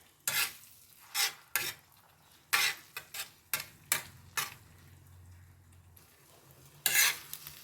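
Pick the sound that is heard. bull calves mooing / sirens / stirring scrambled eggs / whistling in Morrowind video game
stirring scrambled eggs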